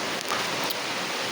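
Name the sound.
heavy rain falling outside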